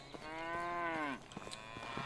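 A cow in the video game Medieval Dynasty lets out one long, drawn-out moo that bends downward at the end, clear and close against faint background ambience.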